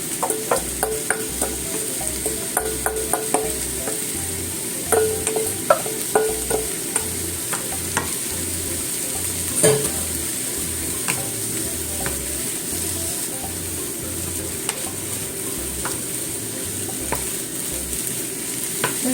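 Carrots and other vegetables are stir-fried in a pot for a barley tomato soup. A steady close sizzle runs throughout, with regular scraping and stirring strokes and the odd clink.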